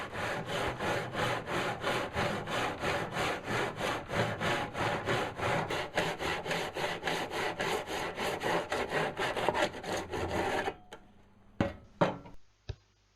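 A hand saw cuts a wood miter in a miter block, with steady back-and-forth rasping strokes close up for about ten seconds, then a few light knocks before it falls quiet.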